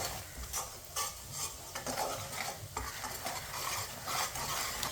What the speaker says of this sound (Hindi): ऐसे ही चम्मच लाते हुए सूजी का कच्चापन ख़त्म हो जाएगा